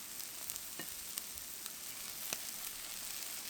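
Soft, steady sizzling of a cabbage, onion and tuna pancake with egg frying slowly over low heat in a pan, a faint even crackle with a few tiny pops and no talking.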